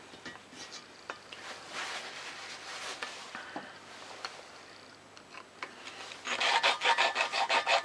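A Lister D engine valve being hand-ground with lapping paste makes a soft, close rasping rub in short back-and-forth strokes, growing louder and more rhythmic near the end.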